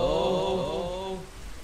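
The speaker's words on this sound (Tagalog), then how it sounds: "Grabe yung panahon. Umuulan pa." Steady rain hiss falling in a Roblox Murder Mystery 2 game map, soft and even, heard alone with no voices.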